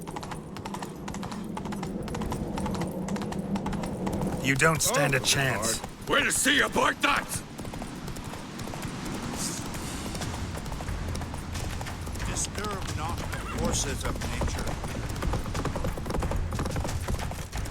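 Roach, Geralt's horse in The Witcher 3, gallops with rapid, steady clip-clop hoofbeats that run under game dialogue, mixed with clattering action sounds and spoken lines throughout.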